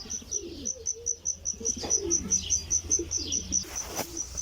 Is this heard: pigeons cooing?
yes